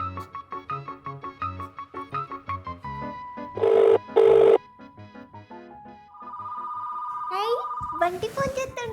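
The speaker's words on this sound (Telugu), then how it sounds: "ఒకసారి ఫోన్ చేసి అడుగుదాం" A telephone rings in two short bursts over a light, playful music bed, with children's voices speaking around it in a comedy scene.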